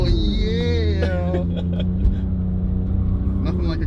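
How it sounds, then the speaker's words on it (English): A stick-shift car with traction control off doing a first-gear donut, its engine droning loud and sustained at steady revs. An excited voice shouts over it at the start. "Nothing like a good old first gear donut."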